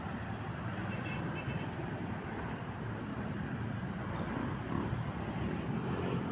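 Street traffic heard as a low, steady roar of passing vehicles with a broad rumble and no distinct horns or voices, fairly faint and continuous throughout.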